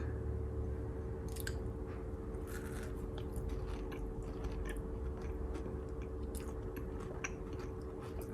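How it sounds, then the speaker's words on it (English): Someone chews peanut butter crunch brownies topped with chocolate ganache, giving close, moist crunching and squishy bites that repeat irregularly over a steady low background hum, with no talk. "taste test on the peanut butter crunch brownies."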